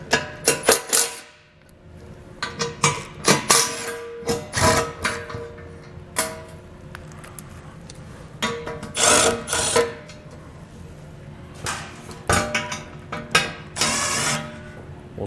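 Ratchet and 13mm sockets working skid plate bolts loose on a 2022 Jeep, with irregular clicking bursts, metallic clanks and handling noise nearby, fairly loud and without speech.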